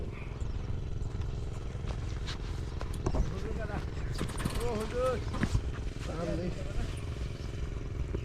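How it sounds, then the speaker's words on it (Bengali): A village ferry boat is hauled across the low dry-season Brahmaputra by rope, making quiet creaking, ratcheting pulley-like clicks over a low steady rumble, with people talking throughout. "দড়ি টেনে নৌকা পারাপার করা হয়"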